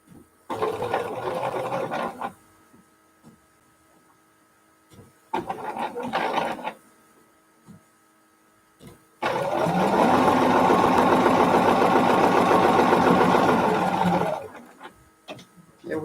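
A sewing machine runs close up, stitching the diagonal seam joining the quilt binding ends on a T-shirt quilt, in three separate runs, two short and one long steady whirring stretch, with quiet pauses between.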